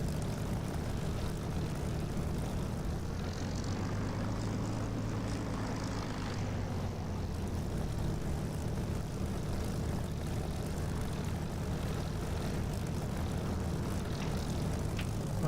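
Propeller aircraft engine in the DCS flight simulator game, a constant droning hum with a slowly shifting pitch, steady and moderately loud throughout, no talking.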